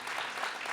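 A short burst of clapping from a group celebrating Habitat for Humanity, brief and steady without any talking.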